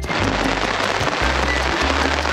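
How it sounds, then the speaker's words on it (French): Heavy rain pours down during a thunderstorm. The downpour is steady, loud and dense throughout, with deep low rumbling underneath and no voices. "c'est pas la petite pluie hein. Il y a l'orage, il y a les éclairs, il y a le bruit."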